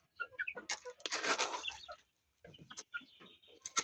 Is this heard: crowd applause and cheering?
no